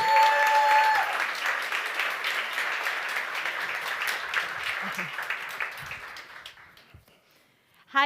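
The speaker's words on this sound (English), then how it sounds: "with a big round of applause, let's welcome all 4 co-founders on stage, Gülşah Wilke, Ming Sung, Oktay Erciyes" Audience applause at a New Year's event as four co-founders come on stage, beginning at full strength over a brief tone, then gradually fading to near silence by the end.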